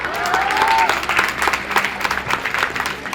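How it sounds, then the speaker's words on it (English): Audience at a nursing school and college graduation ceremony breaks into a big, dense round of applause for the graduating students, loud and sustained, with a brief cheer or whistle near the start. "Let us give them a big round of applause."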